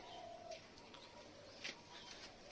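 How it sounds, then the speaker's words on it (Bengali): Pigeons, including young birds, coo softly at close range in a low, steady murmur, with faint chirps and a brief flutter of wings and no talking. "এখানে বাচ্চা বাচ্চা পায়রাগুলো ঘুরছে, এরা সব বাচ্চা হয়েছে"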